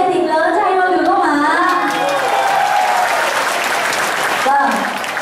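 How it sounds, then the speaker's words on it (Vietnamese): A concert audience breaks into loud, sustained applause, with dense clapping and some cheering voices that swell and then fade slightly at the end. "Mọi người có thể vỗ tay thật lớn cho anh được không ạ?"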